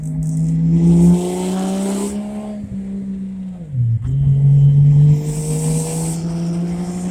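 A Lexus GS300 with a 2JZ engine and a big turbo revs hard and accelerates, its loud engine note climbing, dipping and climbing again as it pulls away, with no talking.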